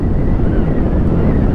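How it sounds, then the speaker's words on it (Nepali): Strong wind buffets the microphone while riding a bike, a loud continuous low roar with no break. "हावा कतिको छ साथीहरू त हावा हावा पछाडि हावा"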